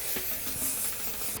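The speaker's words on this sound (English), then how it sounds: "So now I'm gonna just add a little bit of spray." Hairspray from an aerosol can mists onto styled hair in a short, soft, steady hiss, close and fairly quiet, with no talking.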